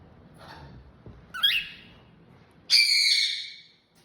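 Birds give two bright calls close by: a short sharp one, then a longer, loud, harmonic squawk. No voices are heard.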